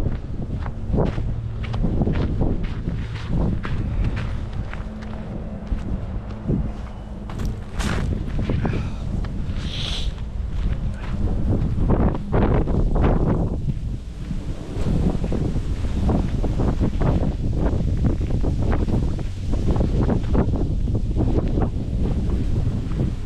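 Wind buffets the microphone on a winter beach by the reeds at Kamenka, Yeysk, in gusty roaring bursts, with footsteps crunching along and surf faintly underneath.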